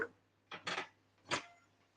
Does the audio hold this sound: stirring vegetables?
yes